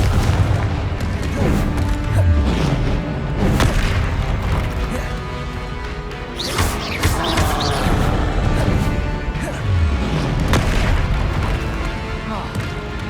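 Repeated Confringo spell blasts in the Hogwarts Legacy video game, heavy booming explosions layered with crashing impacts and battle noise in a continuous dense barrage, loud and close throughout.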